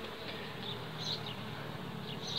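Honey bees buzz steadily across a brood frame during a hive split, a dense continuous hum with a few individual bees droning closer and louder now and then.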